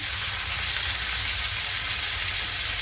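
Salmon pieces pan-frying in oil in a home kitchen, a steady, dense sizzle and crackle of hot oil that holds evenly throughout with no voices.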